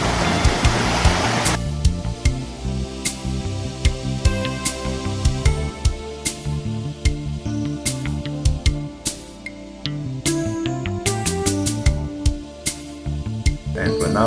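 Surf rolls onto the beach at the northernmost end of Lucky Bay in Western Australia, a continuous loud wash with repeated crashing pulses and hiss, close and unbroken, with no talking.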